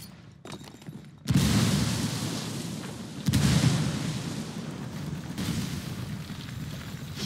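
A frag grenade goes off in Ghost Recon Wildlands with a heavy, loud blast, followed by a second big boom a couple of seconds later, each trailing into a long, rumbling roar.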